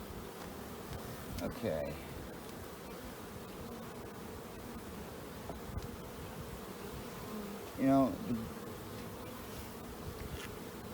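Honey bees buzz steadily around an open hive during an inspection, with one or two bees droning loudly past close by; a person speaks briefly.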